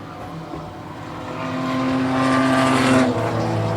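Race cars in a 2023 enduro race roar past, the engine note building steadily louder and rising in pitch over a few seconds before holding strong, with no voices.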